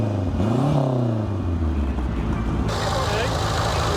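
A Renault 5 GT Turbo's 1.4 litre turbocharged engine, with a Garrett T2 turbo, idles and revs, rising in pitch then settling, with a steady mechanical hum close by.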